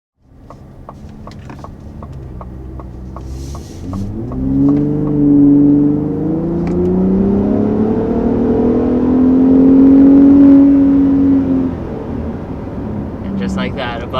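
2021 Ford F-150 Raptor pulling past 60 mph, starting from a ticking idle and then swelling into a loud engine roar that climbs in pitch through two long surges, close and prominent.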